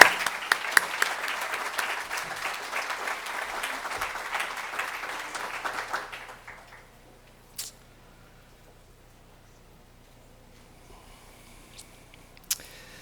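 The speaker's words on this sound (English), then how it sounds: "I got to give you another round of applause." Audience applause at a hospital foundation gift announcement, a dense patter of clapping for about six seconds that then stops abruptly, leaving near silence broken by a couple of faint knocks.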